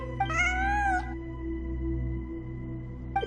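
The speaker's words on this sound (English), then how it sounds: "I'm not hearing things. It really is a cat." A cat in the video game Genshin Impact gives a clear drawn-out meow, followed near the end by the start of another, over a steady low game music and ambient hum.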